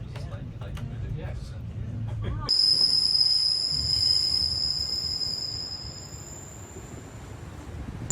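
A slow express train rolls steadily along the rails with a low rumble, then a sustained high metallic squeal of wheels rises over the running noise and fades.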